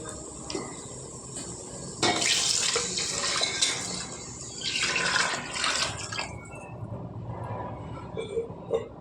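Water pours steadily into a pot of rice for pulao, a continuous splashing gush lasting several seconds with a few brief surges, close and fairly loud with no talking.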